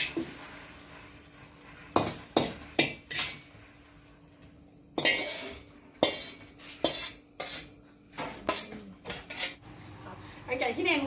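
Metal utensils scrape and clink against a pot and bowl as cooked shrimp for an Isan-style shrimp salad are scooped out, in irregular clattering bursts separated by brief quiet gaps.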